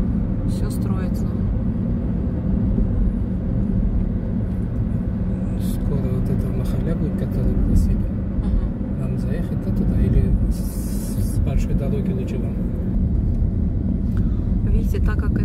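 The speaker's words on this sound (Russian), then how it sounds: "такие грузовики здесь ездят" Heavy trucks rumble past on the Tashkent ring road, a steady loud low drone of traffic throughout, with someone talking over it.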